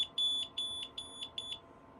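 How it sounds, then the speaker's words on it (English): Four short, shrill electronic beeps from a WiFi smart water leak sensor in an evenly spaced pattern, loud and close, then the beeping stops, leaving a faint low hum. "the annoying beeping will stop a few seconds after the water is removed"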